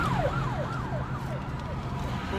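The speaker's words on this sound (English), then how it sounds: "Oh, the ambulance coming." An ambulance siren wails in repeated rising-and-falling sweeps, fairly close and steady over the low rumble of road traffic.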